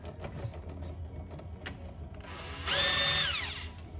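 Power tool on a 2007 Chrysler Aspen transmission spins up with a rising whine and runs briefly to pull out a bolt, loud and close over low shop background noise.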